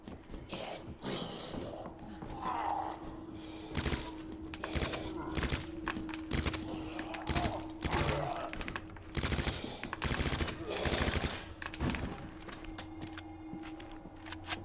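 Gunfire in the video game Resident Evil 2 Remake: repeated loud sharp shots in irregular bursts over a constant low hum, with growls and game effects between them.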